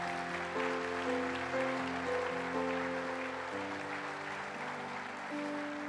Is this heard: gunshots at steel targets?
no